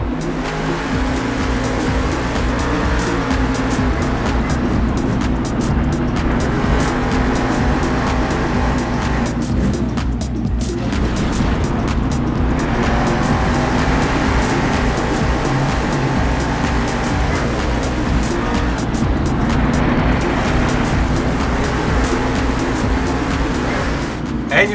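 Monster trucks race at a Monster Jam show, their engines roaring steadily and loudly throughout, with crowd and arena noise blended underneath.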